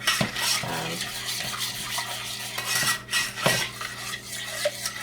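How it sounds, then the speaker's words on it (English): A spoon scraping and stirring a boiling fudge mixture in a pot, continuous close scraping and clinking against the metal with a bubbling undertone throughout; no speech. "It's got to be stirred constantly."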